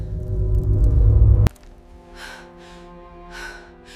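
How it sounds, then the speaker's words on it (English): Several short, breathy gasps for air in the dark come after a heavy low rumble that cuts off abruptly, with a faint steady drone underneath. "After some time, fewer breaths could be heard."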